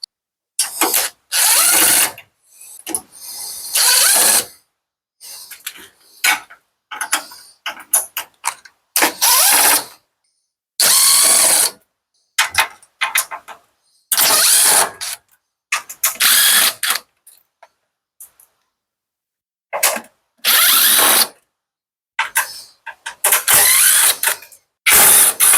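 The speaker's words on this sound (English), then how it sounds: "we have to remove the screws that are right here as well" Screws are backed out of the panel on an LG front-load washer with a ratcheting driver in repeated short clicking bursts, close and separated by quiet pauses, with no talking.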